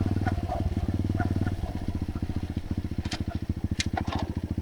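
A cold, not yet warmed-up pit bike engine runs close and loud on a steep hillside among spruce trees, a steady rapid chugging drone that shifts slightly in pace, with faint clatter over the top.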